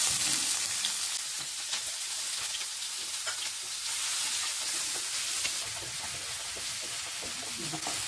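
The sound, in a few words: onions frying in hot oil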